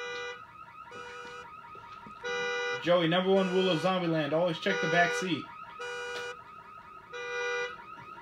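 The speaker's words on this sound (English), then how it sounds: "turn your damn car alarm off" A car alarm in the horror video game Visage blares in repeating electronic tone bursts, a steady cycling pattern under loud excited talk from players.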